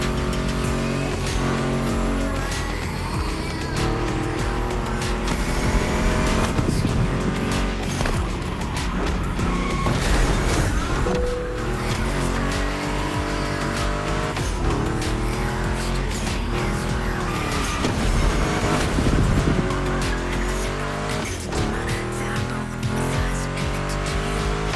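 A Mustang GT muscle car drives in the racing game The Crew Motorfest. Its engine roars loudly and without a break, with revving surges and tire squeals through the turns.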